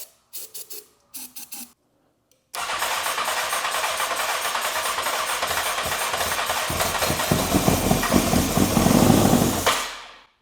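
A wrecked Honda CBR 600 sportbike engine fires up after a few short bursts, then runs steadily and loudly close by with a rough, raspy exhaust note before cutting off abruptly.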